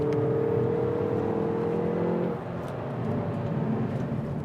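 Hyundai i30 N hot hatch, 271 bhp, heard while being driven hard: a steady engine drone holds at a constant pitch, then eases slightly, continuous and fairly close, with no talking.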